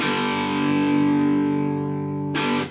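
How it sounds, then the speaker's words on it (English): Electric guitar through an old Fender amp with light overdrive, playing a riff, sustains a ringing chord, then a fresh strum cuts in near the end; loud and close, no voices. "Not too much overdrive on the guitar."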